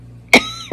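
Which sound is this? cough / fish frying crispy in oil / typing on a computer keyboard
cough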